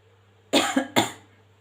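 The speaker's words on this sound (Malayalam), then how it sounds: "എനിക്ക് ചുമയാ വരുന്ന," A person coughs twice in quick succession, close and sharp, after sniffing chili powder, with a low hum in the background.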